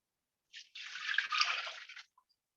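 Five hundred grams of water is poured into a mixing bowl, a short splash followed by a steady, soft stream of liquid lasting about a second and a half, then a couple of faint drips.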